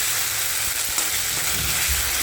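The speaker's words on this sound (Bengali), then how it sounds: "খুব ভালো করে ভেজে নিই কাঁচা গন্ধটা আদা রসুন কাঁচা লঙ্কার গন্ধটা বেরিয়ে যাওয়া অবধি" Ginger, garlic and green chillies frying in oil in a pan, a dense, steady close sizzle with faint stirring knocks and no talk.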